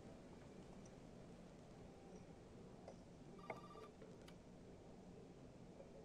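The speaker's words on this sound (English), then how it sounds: "the phone's ringing over here" A telephone rings in the Resident Evil 7 video game, a faint, brief electronic ring burst near the middle over a low ambient hum, otherwise quiet.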